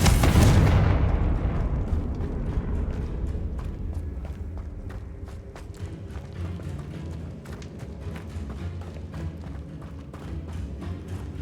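In Hogwarts Legacy, a Confringo blasting spell goes off with a single loud, booming explosion, then a rumbling, crackling tail that fades over several seconds and is dotted with small thuds.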